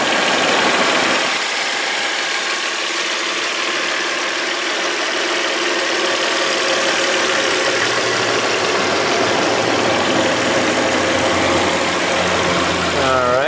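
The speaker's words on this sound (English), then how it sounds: "I'm going to shut up and let you guys listen to this engine for a second to hear how nice it is." The V6 engine of a 2001 VW Passat wagon runs at a steady idle, loud and close, with a continuous broadband hum and rumble throughout.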